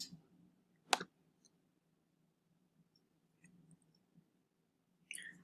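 Computer mouse clicks while placeholders are deleted in a web page builder, one sharp distinct click early then a few faint ticks and a final click, close and quiet against near silence.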